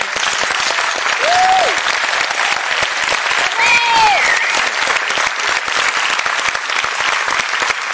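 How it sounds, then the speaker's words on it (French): A film-debate audience gives loud, sustained applause to the director of Inch'Allah. Dense clapping fills the whole stretch, with a couple of brief whistles rising above it. "On applaudit vraiment très fort"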